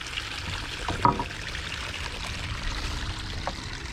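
Water flowing in a stream during a thunderstorm keeps up a steady, close rushing trickle for the whole stretch, with one brief louder splash near the middle.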